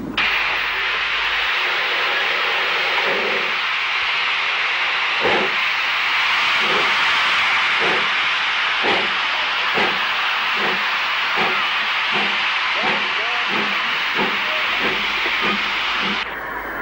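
Steam locomotive 7027 Thornbury Castle rounds a curve into Worcester with the Cathedrals Express, giving a steady hiss of steam under a run of rhythmic rail beats and clanks that quicken midway.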